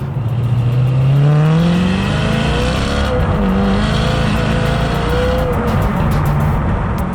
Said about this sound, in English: now I've got this gorgeous, beautifully sounding, fully functioning Maserati